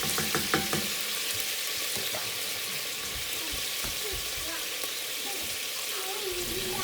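Beef noodle soup base sautéing in a hot pan, a steady bright sizzle with occasional stirring clatter and a few scrapes, running continuously without talk.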